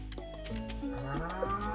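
A cow moos once in the farming video game Stardew Valley, a short low drawn-out call over quiet background game music.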